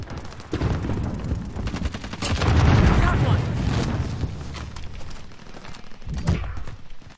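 Gunfire in a payload-mode shooter video game, with rapid bursts of shots and booms piling into a sustained, loud barrage. A player talks over the shooting.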